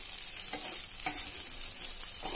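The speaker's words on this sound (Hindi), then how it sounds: "आप इस तरह से फ्लिप करते हुए अच्छे से हिलाएंगे ताकि तो मसाला इसमें सारा मिक्स हो जाएगा" Cheese tawa pulao rice being stirred and flipped on a hot tawa: a steady sizzle with repeated scraping strokes at roughly half-second intervals, close and alone.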